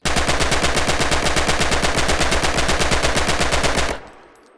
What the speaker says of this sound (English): That sound of the MP40 firing is synonymous with the German forces.